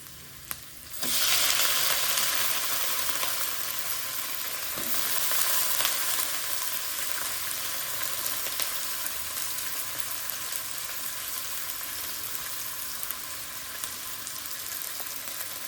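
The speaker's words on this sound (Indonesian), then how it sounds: "Oke, sekarang waktunya kita masukkan sayurnya." Vegetables hit a hot pan with a sudden burst of sizzling, then fry in a steady, loud, close crackle that continues unbroken, with no voices.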